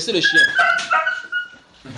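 A dog yips, barks and whimpers in quick high-pitched bursts, close by, with a voice speaking over part of it during an indoor religious gathering.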